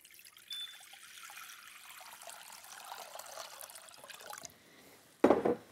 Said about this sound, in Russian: Ставлю их на плиту, открываю крышки, наливаю воду.